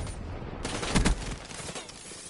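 Rapid automatic gunfire bursts loudly in a Black Ops 3 multiplayer match, a dense clattering volley lasting about a second and then trailing off into game ambience.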